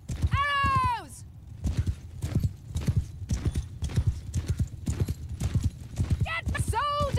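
Cavalry horses gallop across a battlefield in the video game Mount and Blade Bannerlord, a steady run of close clip-clop hoofbeats with a whinny at the start and more neighs near the end, under faint background voices.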